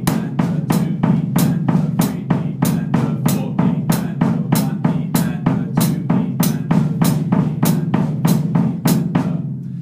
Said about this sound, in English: there's going to be some bass drums which are played in between the hi-hats